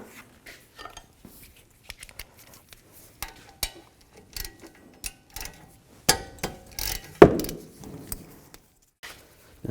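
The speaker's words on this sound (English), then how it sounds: "Use a 14mm socket." Metallic clicks and clanks from a 14mm socket on a ratchet as the front brake caliper bolts come out of a 2010-2016 Buick LaCrosse, scattered sharp taps with a louder clatter near the end, close by and without talk.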